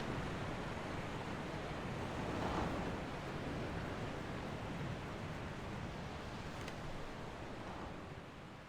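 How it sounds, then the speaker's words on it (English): A distant waterfall in the video game Resident Evil Remake, a steady, broad wash of rushing water that holds evenly throughout, soft and faraway with no voices over it. "You can hear the sound of a waterfall in the distance."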